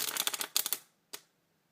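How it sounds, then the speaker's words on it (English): A deck of playing cards riffle shuffled during a street card trick, giving a close, crisp run of rapid fluttering clicks that cascade for under a second, followed after a pause by a single soft card tap. "You do one riffle shuffle, their card's here."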